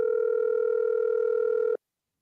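A steady telephone dial tone during a call, loud and continuous for nearly two seconds, then cut off abruptly into silence.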